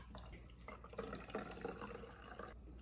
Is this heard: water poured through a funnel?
yes